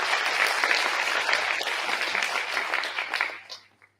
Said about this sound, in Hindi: तो जयदीप के अच्छे काम के लिए एक बार जोर से तालियां बजा दें।